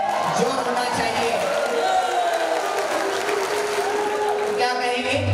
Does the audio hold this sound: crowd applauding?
yes